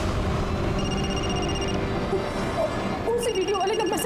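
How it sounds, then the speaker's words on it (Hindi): A telephone rings with repeated electronic tones over background music and ambient sound, and a second ringing tone joins near the end. "उसी वीडियो वाले नंबर से फोन आया, उसी नंबर से।"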